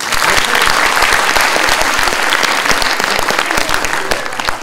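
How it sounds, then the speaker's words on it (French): A live studio audience applauding loudly and continuously, dense clapping that holds steady throughout without fading. "Merci de les applaudir."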